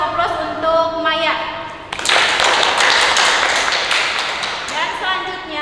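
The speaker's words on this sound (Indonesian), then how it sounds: "Kita kasih aplaus untuk Maya." Students in a classroom applaud for a classmate named Maya after her presentation, a burst of clapping that starts after a voice and continues for a few seconds before fading.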